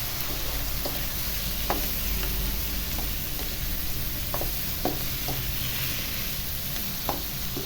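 Shrimp heads being stirred into sautéed mung beans in a pan, with a steady sizzle of frying under scattered scraping clicks of a utensil against the pan, close and continuous.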